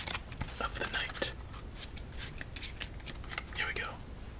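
A deck of playing cards is shuffled during a solitaire game, with close, crisp riffling and soft card flutters running continuously, joined by a quiet, breathy voice.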